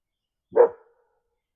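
A single short dog bark, fairly distant, in otherwise quiet surroundings.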